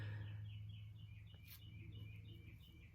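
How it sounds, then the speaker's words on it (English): Birds chirping outdoors, a series of quick, high tweets repeating through the moment, faint and distant beneath a low steady hum. "The birds are so loud."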